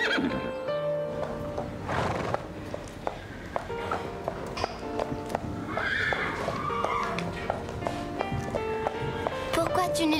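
Horse neighs and whinnies with clip-clopping hooves, loud and close, mixed in with a cartoon soundtrack and spoken dialogue.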